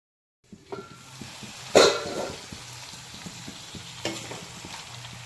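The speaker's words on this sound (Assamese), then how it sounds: "আৰু এতিয়া মই আৰু চব্জিখিনি সিজালৈকে ঢাকি কিনি ভাজি ল'ম।" Chicken and vegetables frying in a pan: close, lively sizzling with a sharp burst early on and regular scraping stirs throughout.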